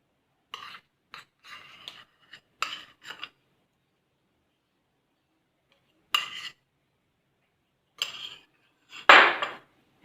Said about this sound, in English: I'm mixing the butter with the flour.